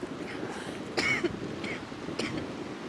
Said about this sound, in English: Thank you, COVID, for giving me that cough.